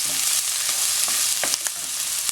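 Onions sizzle steadily in oil in a pan, a loud continuous frying hiss with a few sharp stirring scrapes near the end.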